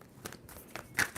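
A deck of tarot cards is shuffled, giving quiet papery riffles and a few crisp flicks in short bursts, with no talking.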